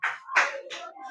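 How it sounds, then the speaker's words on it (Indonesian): Short burst of classroom applause for a student group during a fifth-grade science lesson on light, with a few clustered waves of clapping hands, fairly close and without talk. "Tepuk tangan buat kelompok 2."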